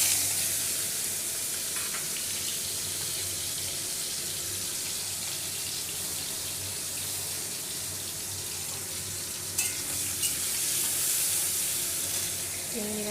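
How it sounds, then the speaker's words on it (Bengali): Shrimp fry in hot oil in a wok, giving a steady, even sizzle that runs unbroken throughout at moderate loudness. "আমি এবার চিংড়ি মাছটাকে ঢেলে দিচ্ছি।"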